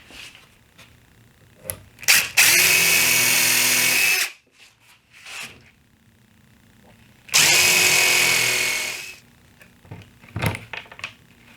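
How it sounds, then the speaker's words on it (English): A power drill whines in two sustained bursts of about two seconds each, drilling pilot holes in wood close by, with clicks and handling knocks between them. "I'll drill some pilot holes first."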